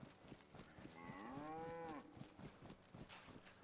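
A single long cow moo on a farm, rising and falling in a drawn-out low call, fairly close but quiet, with light rustling and shuffling around it.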